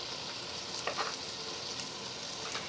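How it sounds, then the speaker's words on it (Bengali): Rice being stirred with mutton and fried spices in a hot pan, a soft continuous sizzle with a few scraping stirs. "এই যে চালটা আমি এই মাটন আর মশলাটার সাথে একটু নেড়ে নেব"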